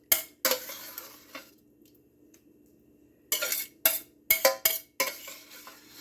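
A utensil scrapes meat sauce into a lasagna dish in a home kitchen, giving short clinking, scraping bursts against the pan with a quiet gap partway through.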